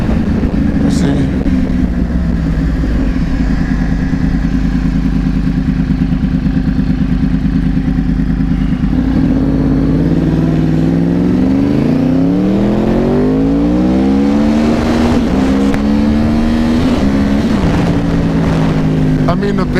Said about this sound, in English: I know this cop is gonna pull up right behind me